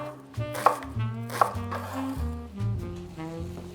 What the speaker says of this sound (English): I'm also gonna chop up the rest of this red onion that I have